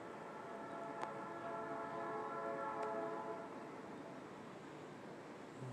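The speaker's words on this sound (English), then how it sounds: "Unless I was hearing the sound of the train." A distant train rumbles steadily with a faint horn-like tone hanging over it, low and far off throughout.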